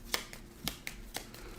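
Board game cards for A Distant Plain, a GMT Games COIN game, being shuffled by hand, heard as several sharp, close riffling snaps spaced irregularly over a quiet background.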